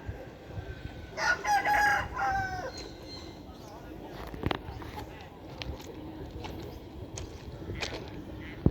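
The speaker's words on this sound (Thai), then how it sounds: "เดินมาเที่ยวก็เจอไก่พี่เขาเลี้ยงไก่กันเยอะเลย" A single rooster crows once, fairly loud and close, where fighting cocks are raised in northeastern Thailand near the Chong Mek border crossing, then faint farmyard sounds and clucks continue.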